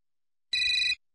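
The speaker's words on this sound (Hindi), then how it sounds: "पता नहीं किसका फोन।" A telephone rings in a household scene: one short, loud electronic burst of ringing that cuts off abruptly, surrounded by silence.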